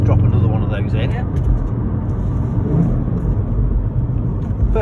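Car engine revving and rumbling steadily close by as the driver blips the throttle for a heel-and-toe downshift, matching revs under braking, with a voice talking over it throughout.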